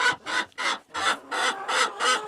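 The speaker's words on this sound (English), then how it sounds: "So we're in the chicken coop." Egg-laying hens clucking inside a chicken coop, a steady run of about seven close, loud bursts of fowl calls in rhythmic succession with short gaps between them.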